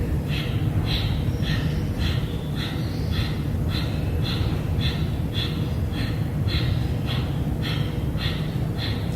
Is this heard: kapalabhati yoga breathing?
yes